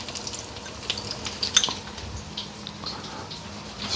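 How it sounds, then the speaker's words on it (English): Cold rice sautéing in a hot pot, a soft steady sizzle with faint scraping and stirring clatter, fairly quiet and continuous with no talk. "while this is sauteing up"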